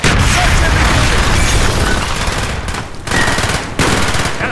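Sustained loud automatic gunfire in Call of Duty Black Ops, a dense rapid rattle of shots with booming low end, briefly dipping twice before resuming, close and overpowering.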